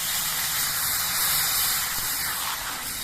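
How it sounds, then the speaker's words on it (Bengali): A small amount of water goes into a hot pan of sautéed spiced vegetables for an amudi fish and spring onion curry, giving a loud, steady steam hiss and sizzle that holds for about three seconds with no voices. "এবার এর মধ্যে আমি অল্প করে জল দিয়ে দিচ্ছি"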